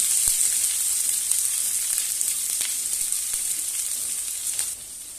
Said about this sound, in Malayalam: അതിനുശേഷം നമുക്ക് കുറച്ച് സവാളയൊക്കെ ഒന്ന് വാട്ടിയെടുക്കാം